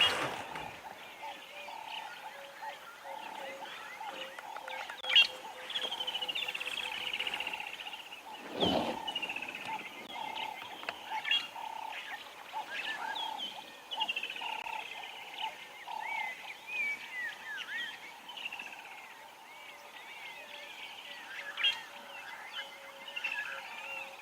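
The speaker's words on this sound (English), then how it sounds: "Beautiful dawn chorus happening at the moment. A lot of different birds calling from around here." A lively dawn chorus at a safari site, with many different wild birds, including kingfishers, calling and trilling at once in a steady layered wash, plus one brief louder burst partway through.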